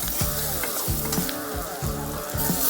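Green chillies tossed into onions already frying in a pan for a country-chicken soup give off a steady close sizzle, with a melodic tune playing underneath throughout.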